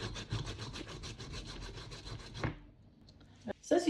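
Cassava being grated by hand for cassava cakes, a steady run of rhythmic rasping strokes for a couple of seconds, then a pause broken by a few scraping bumps.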